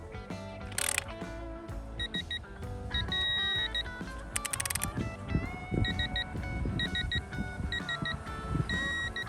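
A digital torque wrench set to 20 newton-metres gives short electronic double beeps, repeating in clusters during spark plug replacement on a Forty-Eight motorcycle, over a busy background of clattering and music-like tones.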